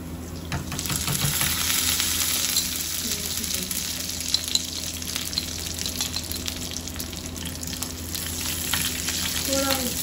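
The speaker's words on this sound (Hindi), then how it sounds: "ये इसका तड़का लगाना है" Desi ghee sizzles loudly and continuously in a hot pan as spices are tempered for a dal, with faint stirring noises now and then.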